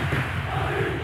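Stadium crowd roaring in a PES 2013 football match between Real Madrid and Barcelona, a loud, sustained swell of many voices reacting together.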